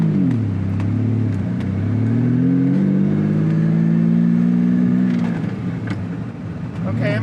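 A Lamborghini Diablo accelerates hard through its gears using a gated manual shifter, a loud engine roar rising in pitch, dropping at each shift and climbing again, with speech over it.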